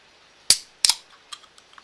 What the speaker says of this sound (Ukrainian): Порівняно з клацанням мишки та відкриванням баночки енергетика.